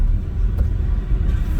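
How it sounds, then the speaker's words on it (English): Six-cylinder petrol car engine idling in city traffic, heard as a steady low rumble from inside the car, fairly loud and even, with no revving. "city traffic like what I'm doing at the moment. Yeah, you're just idling, you're banging all 6 cylinders"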